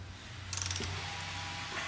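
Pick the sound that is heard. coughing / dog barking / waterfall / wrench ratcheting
wrench ratcheting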